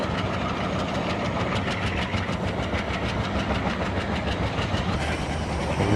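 A WDM3D diesel locomotive in an Indian train video game runs at speed, its engine droning steadily under a dense, rapid clickety-clack of wheels over rail joints, loud and continuous with no voices.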